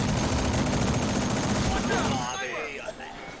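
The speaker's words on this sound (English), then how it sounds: "Other snipers shooting me too." Sniper rifle fire and other gunshots in the online shooter FireFall, a dense rattle of rapid shots that fades out, with a few sharper cracks trailing at the end.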